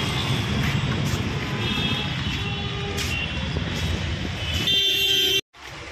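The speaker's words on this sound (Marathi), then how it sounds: "ट्रॅफिक." Busy Mumbai street traffic near Fashion Street rumbles with a constant engine roar. Several car horns honk briefly through it, with a longer blare near the end before a sudden drop.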